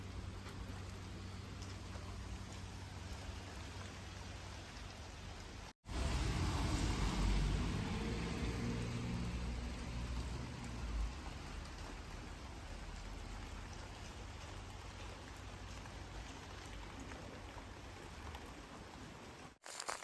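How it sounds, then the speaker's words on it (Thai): Rain falls outdoors in a garden of potted roses, a soft continuous hiss that swells louder after a brief cut and then settles back to a steady patter, with no talking. "วันหยุดฝนก็ตก"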